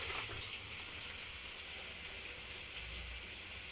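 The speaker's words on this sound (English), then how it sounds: "Putting in some cumin seeds." Cumin seeds sizzle in hot oil at the start of a chicken curry, a steady hissing crackle close by that holds at an even level and has no talking over it.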